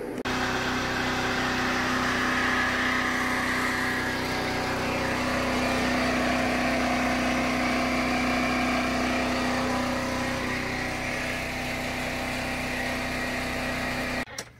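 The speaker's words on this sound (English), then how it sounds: "So this is the generator." A WEN 4750-watt dual-fuel portable generator runs on propane with a loud, steady engine drone and a constant hum, unbroken for the whole stretch before it cuts off abruptly at the end.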